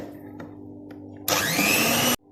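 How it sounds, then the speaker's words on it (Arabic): An electric mixer whirs loudly for about a second while beating yogurt into a batter for Saraya bread, a steady close high-pitched motor whine that cuts in abruptly and stops just as suddenly. "هنزل بالعلبتين الزبادي بتوعي وارجع اضرب تاني"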